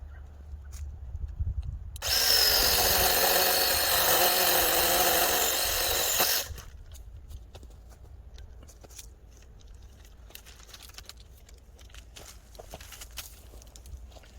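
A saw cuts through a pawpaw tree branch during pruning, making a loud, continuous rasping burst of about four seconds, with quieter outdoor rustling before and after.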